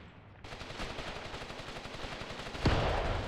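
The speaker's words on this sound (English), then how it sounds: "The enemy machine gunner is returning fire." Sustained rapid machine gun fire rattles on a World War II battlefield in the game Mius Front, dense and fairly close, with a sharper blast near the end.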